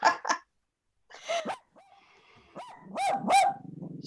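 A dog barks at dogs on a television, giving a handful of short, sharp barks and yips mixed with soft whimpers. The sounds come close by against a quiet room.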